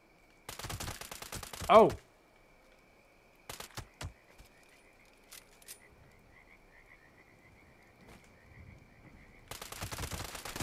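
Bursts of rapid gunfire in a video game come in short separated volleys, loud near the start and end, with a steady tone and sparse sounds between and a brief spoken exclamation.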